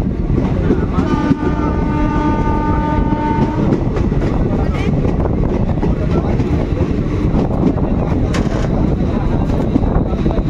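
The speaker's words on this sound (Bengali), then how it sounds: "এখন এই মুহূর্তে আমাদের ট্রেন ধুবুলিয়া রেল স্টেশন এসে পৌঁছলো" The 03020 Azimganj–Krishnanagar City passenger train pulls into Dhubulia station, recorded from on board: a loud, continuous rail rumble with a sustained horn-like tone early on and clattering wheels throughout.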